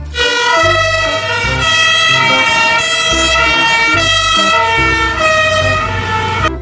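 A loud toy fire ladder truck siren wails continuously, cycling up and down in pitch, with a buzzy electronic tone and no voices.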